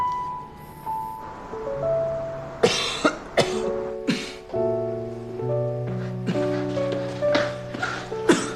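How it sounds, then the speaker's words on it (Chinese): Several harsh, loud coughs in bursts over soft background music, with some throat clearing between them. "你怎么咳嗽了？"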